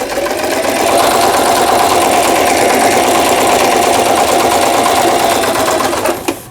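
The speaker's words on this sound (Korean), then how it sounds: "여기 A를 지나서 S1에 놓으면 3중겹 지그재그 바느질 정상적으로 작동되고 있습니다." A Singer 3221 household sewing machine runs a triple zigzag stitch, its motor whirring steadily and loud with a rapid needle clatter for about five seconds before it winds down and stops.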